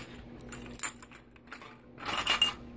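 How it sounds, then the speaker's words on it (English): A Leatherman Micra multi-tool with tweezers and scissors being handled, giving light metallic clinks and jingles in short bursts, close and fairly quiet, with no talking. "I have is a Leatherman Micra multi-tool that has tweezers, it's got scissors instead of pliers."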